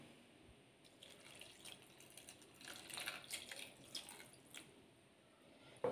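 Water is poured into a frying pan holding crushed ginger, onion and chilli while a sardine curry is being cooked, giving a faint, steady trickle with light splashes and drips that stays quiet throughout.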